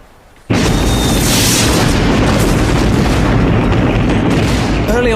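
WW1 German artillery barrage of thousands of guns firing, a sudden onset into a dense, continuous roar of booms and blasts that stays loud throughout.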